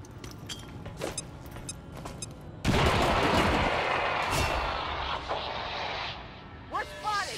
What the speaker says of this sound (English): Let's grenade these guys.